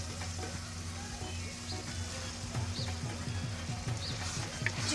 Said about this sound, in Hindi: चिकन डाल के अच्छे से भून लूंगी।